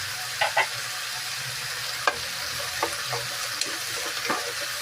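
Onion and garlic dropped into a hot, dry pan with pork liempo for pork steak, producing a soft, steady sizzle broken by a few sharp clatters and stirring scrapes, fairly faint and with no voices.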